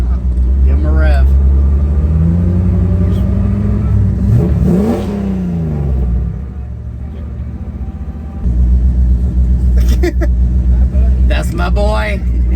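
A Volvo with a swapped-in Mopar V8 revs hard from inside the cabin, a loud deep rumble climbing and falling through several throttle blips, with people talking over it.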